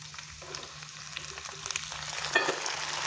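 Brinjal and half-cooked potato pieces fry in a pan over a medium flame, giving a faint, soft sizzle with a few light stirring clatters and a low hum beneath.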